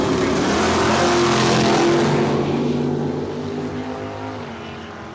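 A 1969 Chevrolet Camaro Z28 at a drag strip during a points race, its engine roaring loud and close before fading as the car pulls away down the track, with no talk.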